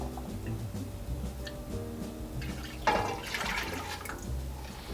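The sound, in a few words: milk and half and half being poured into a pot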